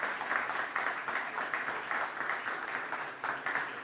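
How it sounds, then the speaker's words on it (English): Audience applause at a conference stage session, a steady patter of clapping heard from a moderate distance at a fairly low level, continuing evenly throughout. "a big round of applause to Nabil Nabil Malouli and"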